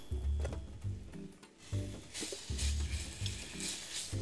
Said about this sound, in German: Die Boulet-Brust habe ich schon vorbereitet und in Würfel geschnitten und tue sie jetzt in der Brotpfanne anbraten.